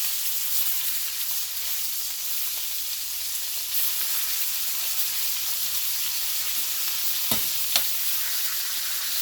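Steak and bacon fry in a cast iron skillet on a stovetop, giving a steady, even sizzle with faint crackle throughout and a couple of brief stir or scrape ticks near the end, with no talking.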